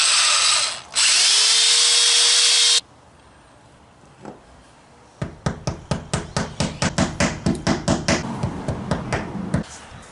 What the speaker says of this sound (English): you just have to go in there and make the holes just that much bigger.